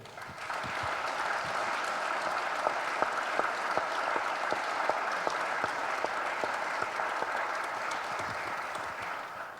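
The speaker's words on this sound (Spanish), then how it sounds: "Este aplauso es para usted." An audience applauds President Sanguinetti with steady, even clapping heard from some distance, individual sharp claps standing out against a continuous wash for the full duration.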